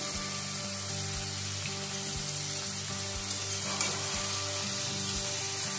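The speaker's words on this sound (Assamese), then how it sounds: "এতিয়া মই 15 মিনিট সময় ভালকৈ মাংসখিনি ভাজি ল'ম।" Mutton sizzles steadily in hot oil with garlic, ginger, green chilli, cumin, coriander and black pepper, a continuous dense frying hiss with occasional soft clicks of stirring and a low hum underneath.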